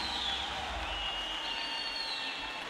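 Spectators cheer in a packed pool arena at a Paralympic women's 400m freestyle S8 heat, greeting a Brazilian swimmer as she finishes. The broad crowd noise is steady and moderately loud, with no speech over it.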